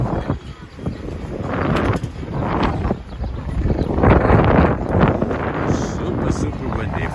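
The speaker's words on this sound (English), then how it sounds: "Super windy." Strong wind buffets the microphone in a loud, rumbling roar that surges and fades throughout, while a person talks beneath it, outdoors in Inwood, Manhattan.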